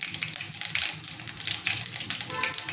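Mustard seeds spluttering in hot oil in a wok, a dense, steady crackle and hiss of quick pops close by, with no talking.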